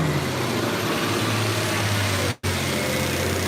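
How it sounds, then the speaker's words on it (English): Garbage truck engine running steadily nearby, a loud continuous low rumble with a brief cut near the end. "I just want to get rid of this garbage truck."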